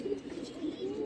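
Pigeon, a Black Diamond bloodline female, cooing softly in a low throaty murmur, a couple of rolling coos close by with light background noise.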